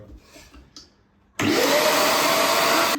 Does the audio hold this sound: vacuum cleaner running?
yes